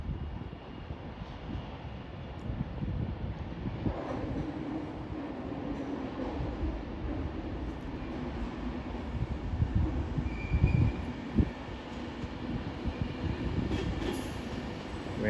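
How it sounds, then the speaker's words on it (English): An Avanti West Coast Class 390 train, unit 390047 leading, arrives at London Euston terminating from Liverpool Lime Street, with a continuous low rumble of wheels on rails, occasional faint squeals and rattles, and no talking. "a terminating Avanti West Coast service from Liverpool Lime Street"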